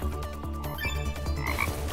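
A frog croak from the Fire Hopper slot game sounds once as a short rasping game effect over steady, loud slot-machine music and chimes.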